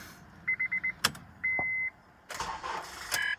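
A car fails to start as though its battery is dead: a rapid series of short electronic chimes, a click, a sustained warning tone, then a brief strained whirring attempt and another chime, close and moderately loud.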